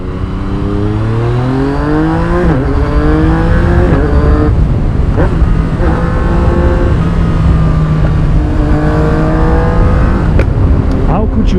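A 2017 Yamaha MT-09 motorcycle fitted with an Akrapovic carbon exhaust revs repeatedly, its close, loud engine note rising and falling through several sweeps, with brief pops between revs and a voice heard faintly at times.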